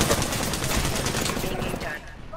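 Gunfire in Apex Legends rattles in a dense, fast, continuous burst through most of the moment, loud and close, with a voice talking faintly underneath before it trails off.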